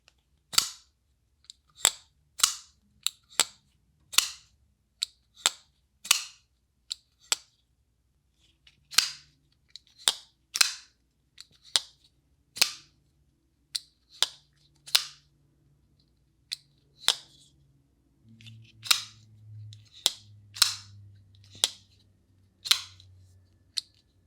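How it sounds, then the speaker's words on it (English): Crisp metallic clicks and snaps come in irregular bursts as three folding knives of different materials flick open and lock shut, close and clear, with a faint low hum late on. "these three knives all have a very different soundscape depending on the materials that are used"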